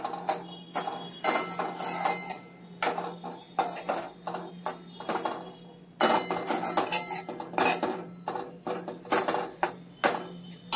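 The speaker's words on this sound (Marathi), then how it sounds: "मंद गॅसवर परतायचं." A metal spoon scrapes and clatters steadily in a pan as grated coconut is stirred and roasted over a low flame, making a busy, continuous run of close, rhythmic clinks and scrapes.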